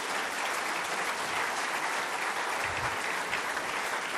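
Audience at a political speech breaking into sustained, dense applause, a steady wash of clapping from a large crowd with no break throughout.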